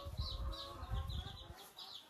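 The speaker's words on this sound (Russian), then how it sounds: "А у нас сейчас выводятся цыплята под другой квочкой." Hens clucking in a coop where chicks are hatching under a broody hen, with soft repeated clucks and low murmuring calls close by, plus higher chirps over the top.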